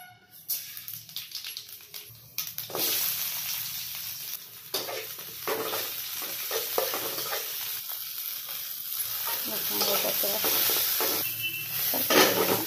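Mashed potato being stirred and fried in oil in a pan, a steady sizzle with scraping stir strokes running throughout, close and fairly loud, with no talking.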